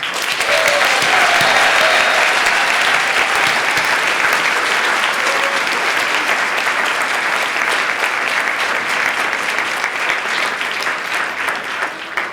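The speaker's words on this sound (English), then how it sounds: "have everybody do a big, huge round of applause for our nominees" A big, sustained round of applause for nominees at an MLK 2020 event, loud and dense throughout, tapering slightly toward the end with a few voices briefly audible.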